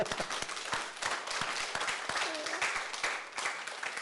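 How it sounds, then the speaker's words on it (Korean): Audience at a church sermon breaks into applause, a steady wash of many hands clapping at moderate level with a faint voice briefly rising beneath it. "우리 여기 왔는데 한번 박수를 한번 쳐드려요"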